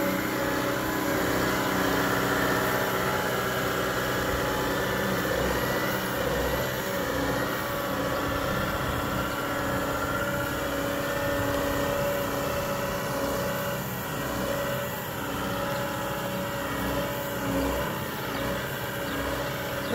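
John Deere 330G skid steer diesel engine idling on a farm, a steady continuous hum and rattle held at even loudness throughout with no talk.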